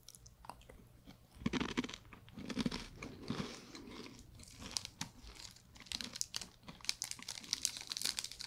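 Close-up bites and chews of flaky pastry dough filled with cheese and butter, giving crisp, crackly crunches in irregular bursts followed by softer munching, quiet and intimate.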